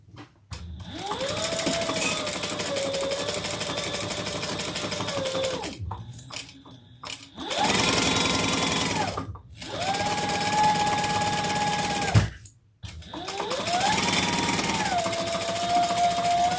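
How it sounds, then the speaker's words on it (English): A sewing machine stitches the long side of a fabric slip pocket for a bag in four sustained loud runs, each a steady whirring hum, separated by short pauses and clicks. "And we're going to sew one long side."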